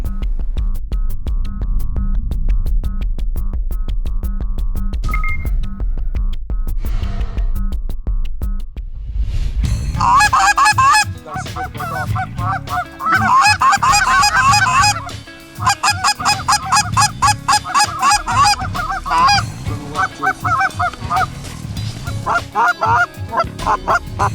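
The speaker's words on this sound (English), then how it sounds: "Front Range of Colorado, Canada Geese over water." Canada geese honk repeatedly over water on Colorado's Front Range in a loud, overlapping chorus, quieter at first and then a dense flock calling continuously at close range.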